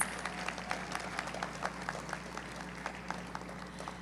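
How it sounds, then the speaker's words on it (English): Applause at the Tobago Day Awards for Bronze Award recipients, faint and distant clapping from a crowd over a steady low hum, with individual claps standing out at a loose rhythm throughout. "can we have a huge round of applause for our Bronze Award recipients"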